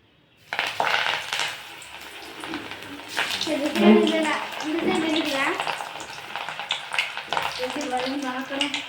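Cauliflower chilli pieces fry in hot oil with a steady sizzle and occasional stirring scrapes, while a voice talks over it through most of the stretch.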